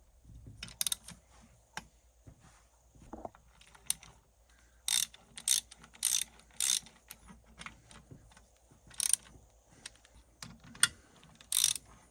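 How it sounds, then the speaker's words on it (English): A ratchet from a classic gray Canadian socket set clicks in sharp, close bursts of rapid ratcheting with short pauses between, set among faint mechanical handling noises. "I got this classic gray Canada socket set that I've been putting together"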